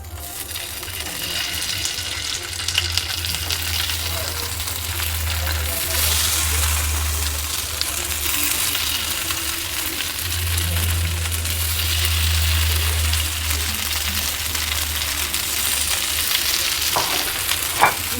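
Paneer pieces for satay fry in hot oil with a steady, close sizzle that runs throughout, broken by the occasional stir or clink. A low hum swells and fades in the background.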